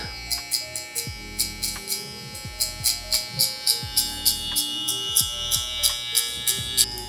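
Electric hair clippers run with the lever closed, buzzing steadily at close range while a barber taps them through short, spiky hair, with repeated brief pulses in the hum as the blade touches the hair.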